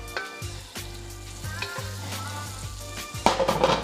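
Oil heating in a frying pan for chicken fried rice hisses and sizzles steadily, with several short scraping stirs of a utensil against the pan and a louder burst of crackle near the end.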